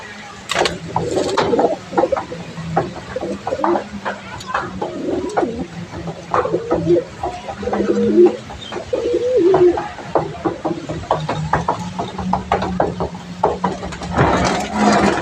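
Several pigeons coo in low, throaty rolls on a rooftop, overlapping irregularly throughout, with light scraping and background clatter nearby.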